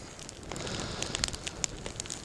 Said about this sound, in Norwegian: Kan ha bål over.